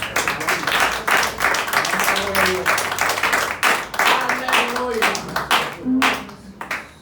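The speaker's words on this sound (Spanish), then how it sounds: "Un aplauso a Cristo." A church congregation claps steadily and loudly together throughout, with voices and some singing or shouts mixed in under the applause.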